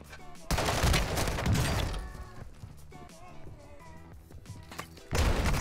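Loud, close bursts of rapid gunfire in a battle royale video game, a heavy volley at the start, a quieter stretch with scattered shots, then another burst at the end.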